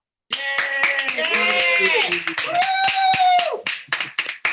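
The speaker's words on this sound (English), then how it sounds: "Clap, clap, clap, clap." Participants in an online membership meeting clap for an award winner: a few scattered, close hand claps mixed with voices cheering and calling out over them.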